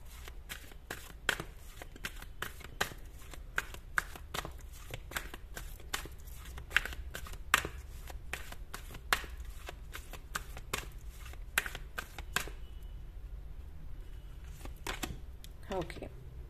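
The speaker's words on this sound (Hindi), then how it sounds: "अगर आपको कार्ड शफलिंग पसंद नहीं है तो आप स्किप कर सकते हो" Tarot cards are shuffled over and over in quick, crisp riffling bursts, close and fairly quiet, in an irregular rhythm that thins out near the end, with a low steady hum underneath.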